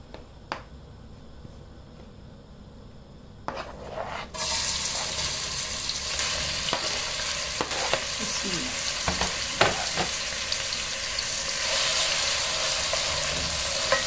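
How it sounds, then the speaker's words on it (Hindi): Oil sizzles loudly after onions drop into a hot pan, frying toward light golden, with steady crackling and occasional stirring clinks; quiet before the sizzle starts. "इसको हल्का सुनहरा होने तक फ्राई करेंगे"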